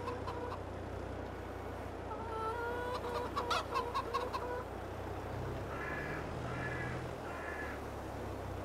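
Chickens in a Farming Simulator 22 game farm cluck in short, repeated bursts, with one louder run of squawks in the middle, all over a steady low background hum.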